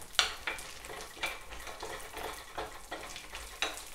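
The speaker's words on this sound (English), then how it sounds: "Into the olive oil, I'm gonna add the walnuts and just toast those a little bit." Walnuts toast in olive oil in a pan, giving a soft, steady sizzle broken by periodic scraping stirs, close and quiet.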